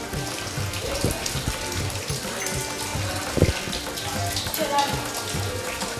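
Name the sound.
water falling from the hillside at a cave temple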